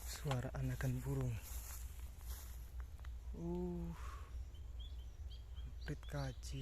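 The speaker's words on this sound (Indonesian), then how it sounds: "Suara anakan burung." Baby birds in a low nest call out in a few short, thin bursts of chirping amid outdoor ambience, with people talking nearby between the calls.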